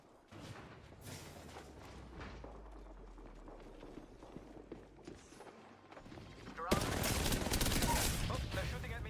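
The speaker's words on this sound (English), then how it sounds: "Oh, they're shooting at me." Gunfire during a game stream from a shooter played away from Overwatch: scattered shots and crackling bursts, faint at first and then a loud dense rattle near the end, with mechanical clicks and clatter.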